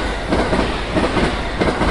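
A cartoon-style train sound effect rumbles loudly, rhythmic clickety-clack of wheels on rails repeating several times in a short steady burst, with no speech over it.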